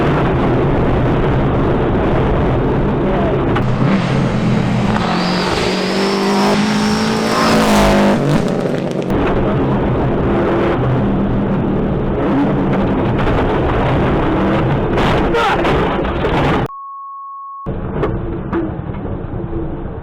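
A rally car crashes at a spectator point during a stage, with loud engine roar, a sweeping rising whine, then crunching impacts and debris, close and chaotic, ending in a short tone and quieter aftermath.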